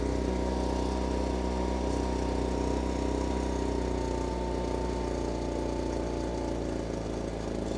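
A Ryobi backpack leaf blower's small two-stroke engine idles steadily after repair work, a continuous close buzzing drone with a low rhythmic putter and no voices.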